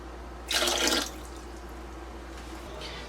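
Distilled white vinegar and water poured into a Presto pressure canner make a short splashing gush lasting about half a second, then a faint trickle, close and otherwise quiet.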